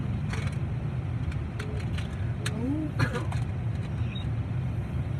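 Steady road rumble and engine hum of a car in motion, continuous and fairly close, with faint creaks and brief higher squeaks over the drone.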